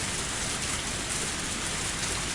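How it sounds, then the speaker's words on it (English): Heavy rain falling steadily in a visual novel scene, a dense, even wash of raindrops with no voices. "The sound of falling raindrops was fierce as always."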